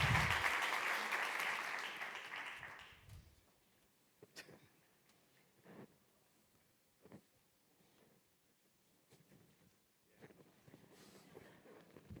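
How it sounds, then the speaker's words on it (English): An audience at a design leadership talk gives a loud burst of clapping that fades out after about three seconds, followed by quiet room noise with scattered soft thumps and shuffles. "Let's have a big round of applause."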